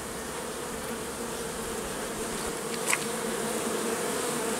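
Honeybees at the entrance of a hive, returning with pollen, make a dense, continuous close buzzing that fills the whole clip at an even level.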